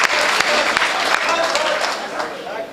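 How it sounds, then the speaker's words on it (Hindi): Loud, steady clapping from the audience at an all-India mushaira poetry gathering in Deoband, a dense crowd applause filling the short moment with no break. "एक बार पुरजोर तालियां बजाएं जनाब"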